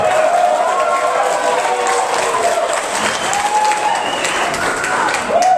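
Comedy club audience applause, continuous loud clapping filling the room with scattered whoops and cheers rising above it, steady for several seconds.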